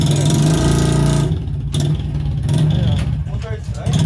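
A tuned Honda Biz 110i motorcycle engine revs in neutral, starting with a sustained high buzzing rev, then dropping back to a rougher idle with uneven blips, loud and close, with people talking over it.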